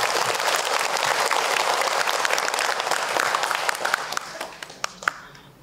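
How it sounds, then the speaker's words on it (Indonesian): A religious talk audience breaks into dense, loud applause that holds steady before tapering into a few scattered individual claps at the end. "Tepuk tangan buat ibu biar kita makin semangat."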